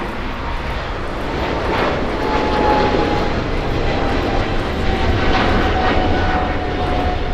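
An EVA Air airliner's jet engines roar steadily at LAX, a loud sustained rumble with a faint whine riding on top, heard from a distance outdoors.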